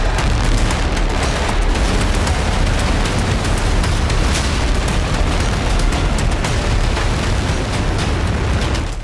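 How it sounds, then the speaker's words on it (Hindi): A North Korean missile test launch, heard as a loud, dense, continuous roar that fills the whole span without a break, with crackling bursts over the rumble. "वो एक के बाद एक मिसाइलों का टेस्ट कर रहा है।"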